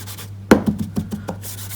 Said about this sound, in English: I'm also going to bring in that embossing buddy.